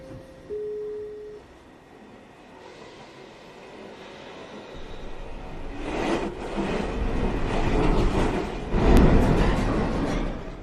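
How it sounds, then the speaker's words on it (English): NYC subway 1 train at Chambers Street station, a brief tone first, then a rising rumble as the train draws in, with louder rattling, wheel noise and a sharp squeal building to a peak near the end. "This is a 1 train going uptown towards Rector Street."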